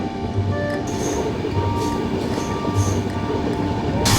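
The 13021 Mithila Express rolls through a curve after leaving Sagauli Junction, with a continuous rumble of wheels on rails, faint squeals and light rhythmic clacks, heard steadily from on board.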